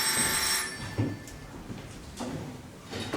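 Telephone ringing in a stage performance of Get Smart by a community theater group, a loud electronic ring at the start followed by fainter repeated ring bursts.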